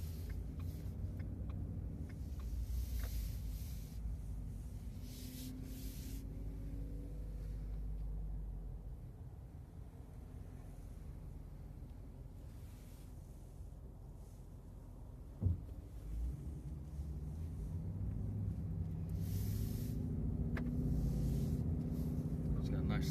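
A 2016 Ford Mustang GT-CS V8 idling and rumbling with a deep, throaty, steady low drone, heard from inside or near the car over about twenty seconds, with one brief knock partway through.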